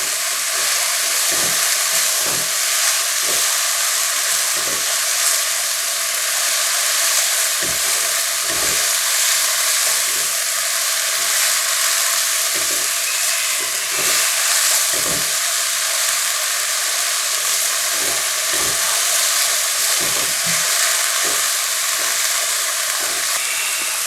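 Shimeji mushrooms fry in a pan with a steady, loud, dense sizzle throughout, broken by faint periodic scraping or stirring taps.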